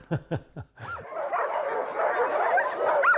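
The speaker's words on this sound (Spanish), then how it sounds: "Los perros saben que, cuando trae la motocicleta, pueden correr." Sled dogs barking, a few sharp close barks first, then a noisy chorus of many dogs yipping and howling together in the background.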